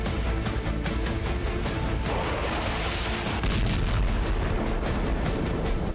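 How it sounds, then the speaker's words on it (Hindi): Explosions and gunfire in Aleppo, Syria, a dense, continuous roar of rapid shots and booming blasts that stays loud throughout with no pauses. "धमाके सीरिया के अलेप्पो में हुए"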